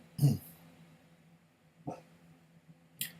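A dog gives three short, separate barks or huffs indoors, the first loudest, with quiet pauses and faint breathing between them.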